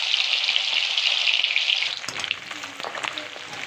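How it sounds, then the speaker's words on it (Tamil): Marinated beef dropped into hot oil for a beef chilli fry sizzles loudly and steadily, then settles into a softer crackling bubble with scattered pops as the pieces cook. "இப்போ எண்ணெயில் போட்டு பொரிச்சு எடுத்துக்கலாம்."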